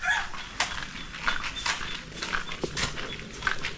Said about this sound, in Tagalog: Ito yung mga sisiw natin.